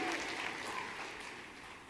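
An audience at a healthcare software company's user conference keynote claps continuously, a dense, even wash of many hands from a large crowd that fades slightly toward the end.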